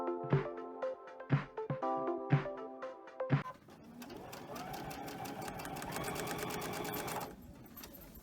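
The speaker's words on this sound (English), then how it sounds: "I'm just going to sew right on the line" A sewing machine stitches fabric along a marked line, starting with a few separate clunks of the needle and then running steadily for several seconds, close and clear, with no talk.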